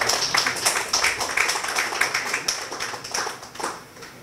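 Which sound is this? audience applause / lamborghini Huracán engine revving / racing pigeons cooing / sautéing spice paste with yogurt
audience applause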